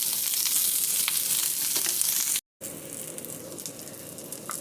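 Onions fry in oil in a pan for a Kannada-style black-eyed pea curry, giving a steady close sizzle with small crackles and occasional stirring, briefly cut by a short gap of silence partway through.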